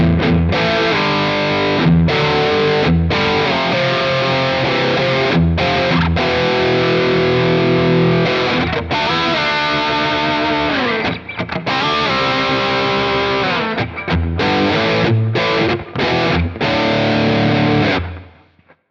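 Thick, scooped-mid distorted electric guitar rhythm tone from a Quad Cortex amp capture with reverb, loud palm-muted chugs and chords played alone in choppy bursts with short gaps, ending in a fade.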